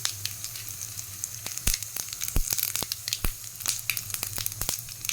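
Mustard seeds, asafoetida and a red chili crackling in hot oil in a kadai for tempering, with rapid sharp pops and spits scattered over a dense, bright sizzle.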